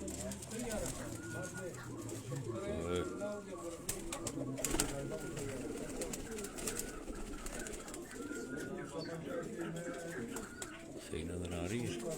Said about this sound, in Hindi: ये टुनिया नस्ल के कबूतर हैं